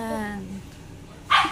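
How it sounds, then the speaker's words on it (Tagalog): A household dog gives a short, sharp bark close by near the end, following a sustained voiced tone and quieter background. "Ang ingay talaga ng aso."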